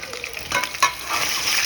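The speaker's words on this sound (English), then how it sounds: "See it's frying." Food frying in hot oil in a home kitchen while lowmein and fried chicken are cooked, a short loud crackling sizzle with a brief bubbling burst, no talking.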